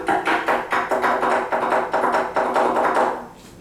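Traditional Amis percussion instrument struck by hand in a rhythmic series of loud, close, sharp taps, about a dozen evenly spaced hits that fade out at the end.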